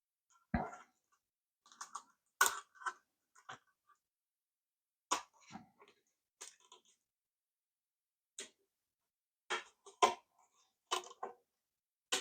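A sharp knife slices thin strips of duct tape in a quiet room, making short crisp cuts and sticky crackles in scattered bursts with gaps between them.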